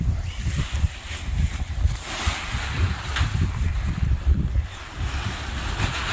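Strong wind roars and buffets the microphone in a loud, continuous rumble while a paragliding wing is being wrapped up outdoors, with no voices heard.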